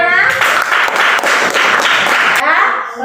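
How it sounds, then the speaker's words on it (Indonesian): Loud applause from a classroom audience after a Quran recitation at a teacher-training practice session in Gorontalo, dense steady clapping filling most of the moment before fading near the end. "Ya, tepuk tangannya mana?"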